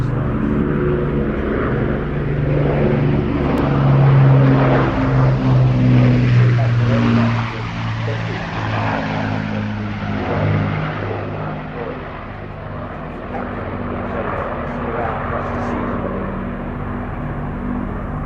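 A wartime aircraft making a wheels-down configured, or dirty, pass drones overhead with a steady engine roar that swells and then slowly fades, continuous and fairly loud throughout.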